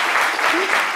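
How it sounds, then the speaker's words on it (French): Steady, dense applause from a TV studio audience fills the whole moment, loud and continuous, with a voice briefly audible underneath. "on applaudit très fort"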